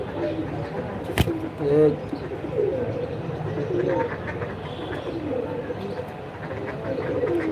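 American Angel pigeons coo softly in low, throaty bursts against a busy, noisy background, with a sharp knock near the start and faint voices mixed in.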